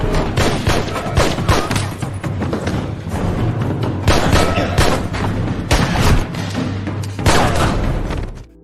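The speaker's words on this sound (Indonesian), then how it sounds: "hingga terjadi baku tembak" Film shootout scene with rapid gunfire, bursts of shots and booming impacts packed densely and loudly, with some faint voices mixed in.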